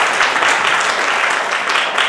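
Guests applauding at a civil wedding ceremony, a steady burst of many hands clapping together, fairly close and loud, continuous for the whole moment with no voices over it.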